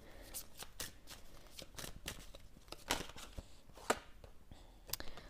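Ho'oponopono oracle cards being shuffled by hand, soft riffling and repeated card slaps in an irregular rhythm, quiet and close, with no talking.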